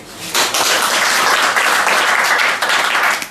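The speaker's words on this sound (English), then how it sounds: "May I call on us all again to give him a hand of applause" An audience at a World Ozone Layer Day meeting applauds a delegate from Cameroon, a loud, continuous burst of many hands clapping that swells quickly and holds before easing off.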